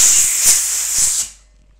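Compressed air blown over a freshly degreased bolt during a wheel repair on a Halten RS03 electric scooter, a close, loud hiss lasting about a second and a quarter before cutting off.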